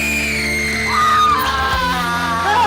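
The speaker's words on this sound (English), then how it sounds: "The night began with a horrifying scream." A long, loud, sustained scream opens a live comedy show's spooky skit, rising and wavering over a continuous background of music or crowd noise.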